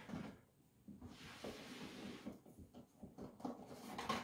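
A drawer of an advent calendar box slides open and shut close by, a soft scraping rub followed by faint knocks and rustling at low volume.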